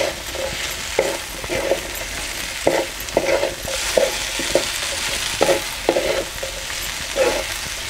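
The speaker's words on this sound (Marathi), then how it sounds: "परत आपण एकदा सगळे मिक्स करून घेऊया" A spatula stirs and mixes vagatya vegetable in a pan, knocking and scraping in a loose rhythm of repeated close taps over a constant frying sizzle.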